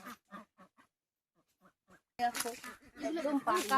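Ducks perched at the edge of a dried-up village pond in the Andaman Islands give a short run of rhythmic quacks, then fall quiet before loud close talk takes over.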